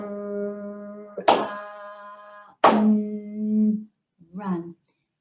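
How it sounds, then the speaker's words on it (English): A teacher claps twice during a phonics lesson, two sharp claps spaced about a second apart, each set among sustained spoken sounds. "Every time I clap, you say the next sound."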